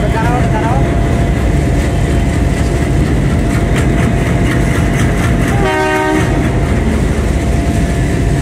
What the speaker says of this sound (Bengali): পঁয়ষট্টি 29 লোকোমোটিভ নিয়ে আসছে রাজশাহী থেকে ছেড়ে আসা চিলাহাটিগামী আন্তনগর আপ তিতুমির এক্সপ্রেস ট্রেনটি।